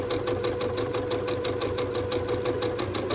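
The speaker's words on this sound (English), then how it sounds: "I'm sewing on the line, sewing on the line, sewing on the line." A sewing machine stitches through dark fabric in a rapid, even mechanical rhythm, close and steady throughout, with no talking.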